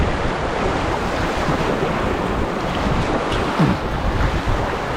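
River water splashes and rushes around a packraft running small rapids in a rainforest river, forming a loud, continuous wash with wind buffeting the microphone and no voices.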